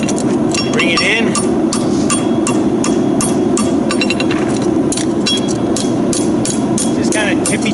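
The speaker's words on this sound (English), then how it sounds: "Try not to make too many hard, obstructive hammer blows that will mash your concave." A farrier taps a horseshoe on the horn of an anvil, striking a brisk series of light, ringing metallic blows close up, with a voice briefly heard near the start.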